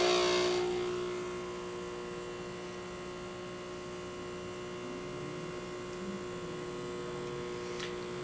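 The pump of a Bezzera Unica espresso machine runs in a steady mains-like hum and drone, loud at first and then settling slightly quieter and even for the rest, with no talking.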